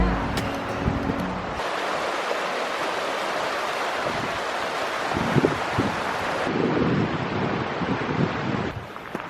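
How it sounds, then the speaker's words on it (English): Steady, full roar of a waterfall at Arthur's Pass, New Zealand, heard from close by as a continuous broadband rush with no voices. "See the top of the waterfall."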